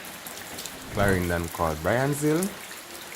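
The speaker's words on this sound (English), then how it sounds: "It's raining, but it's calm at the moment." Rain falls steadily in Jamaica during Hurricane Melissa, making a constant hiss of drops on surfaces, while someone speaks over it briefly.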